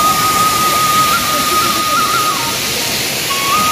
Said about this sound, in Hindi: एटा वाटरफॉल